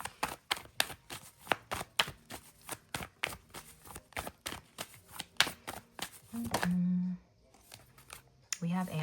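A deck of tarot cards is shuffled by hand in a rapid run of close, crisp riffles and flicks for several seconds, followed by a short hum and then more card handling.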